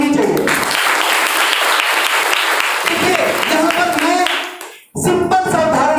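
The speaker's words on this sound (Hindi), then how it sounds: "पहले तो एक जोरदार ताली होनी चाहिए।" A hall audience bursts into loud, sustained clapping that ends sharply, with a speaker's voice over it.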